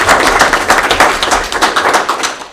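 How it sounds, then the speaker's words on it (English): A small audience at a West Fork city council meeting applauds retiring council member Mark, with brisk, loud clapping sustained throughout and fading slightly at the end. "I think it deserves a round of applause for Mark"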